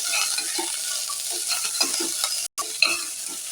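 Brinjal and other vegetables for a drumstick and mango sambar sizzle in a pan while a spoon scrapes and stirs them, a continuous bright frying hiss with repeated soft scraping strokes and a brief break near the end.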